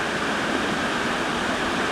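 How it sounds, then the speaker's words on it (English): Creek water rushing steadily where two branches of a California creek merge into one, a dense, constant, close-up roar with no voices. "Looks like two creeks merged into one."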